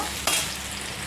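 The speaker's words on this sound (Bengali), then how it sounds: "এই যে আলুটা ভাজা ভাজা হয়ে গেছে পেঁয়াজটাও ভাজা হয়ে গেছে" Potato and onion frying in oil in a pan, a short burst of bright sizzling that flares suddenly and then settles into a steady low hiss, close and alone without talk.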